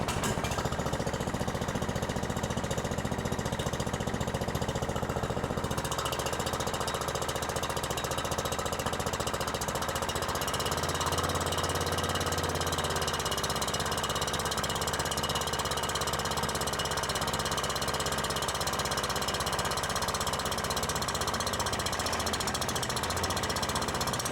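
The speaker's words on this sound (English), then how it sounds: "The engine started well, the drum spun up with minimal vibration" A chipper shredder's small engine runs steadily for the whole stretch, with a rough mechanical drone and a rattling, knocking texture as its drum spins. No voices.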